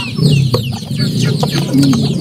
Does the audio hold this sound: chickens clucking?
yes